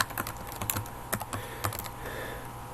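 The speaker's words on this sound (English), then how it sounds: "You have to type it in." Computer keyboard typing, a quick run of light, close key clicks in an irregular burst over about three seconds, with no talking.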